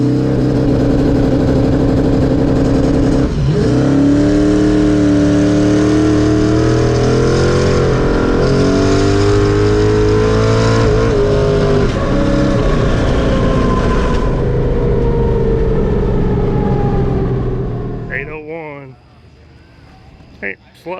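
A car's engine revs hard as the driver floors the accelerator, loud and sustained, climbing in pitch for about fifteen seconds before it drops away, with a voice heard over it.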